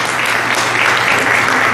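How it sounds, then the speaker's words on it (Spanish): A church congregation at a Sunday service applauding the youth for their service, a short burst of loud, close clapping from many hands. "Un aplauso para ellos por su servicio."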